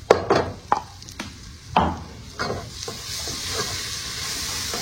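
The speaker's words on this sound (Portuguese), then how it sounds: "já tá fritando bem uma quantidade boa, gente. Pelo menos umas 2, 3 colheres de alho." Two to three spoonfuls of garlic fry on a wood stove, a steady sizzle under repeated sharp scraping and stirring knocks of a utensil against the pan, louder at first, then easing into continuous frying.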